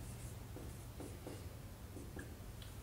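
Writing on a board during a chemistry lesson, with faint, soft strokes and taps of a pen or marker tracing out an expression over a steady background hum, and no talking.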